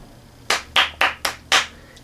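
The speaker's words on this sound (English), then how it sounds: "It gets 5 out of 5 claps." Five sharp hand claps land about a quarter second apart, crisp and close, with a short pause before the last one and no voices.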